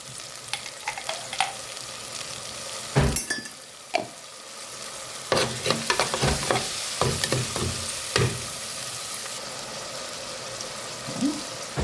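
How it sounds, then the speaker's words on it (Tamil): Tomatoes and rock salt sauté in a pan for a village-style fish curry, sizzling steadily as a spoon scrapes and knocks against the metal in irregular strokes, close up. "தக்காளி போட்டு கொஞ்சம் வதங்க விடுறோம்"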